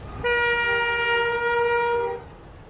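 A loud horn from an arriving 40-wagon freight train sounds one long steady chord for about two seconds over rumbling rail noise, then fades.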